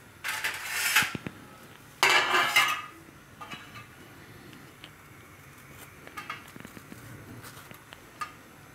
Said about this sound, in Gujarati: તો આને આપણે છાલ કાઢીને ટુકડા કરવાના છે.